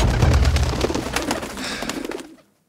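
Pigeons coo in the video game Reigns, a close, loud cluster of throaty, burbling calls with flapping-like clicks that stops abruptly after about two and a half seconds, with no talk.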